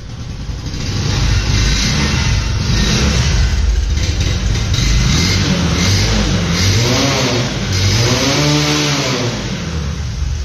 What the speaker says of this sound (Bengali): বাইকটি, আমি যদি আপনাকে সাউন্ড শোনাই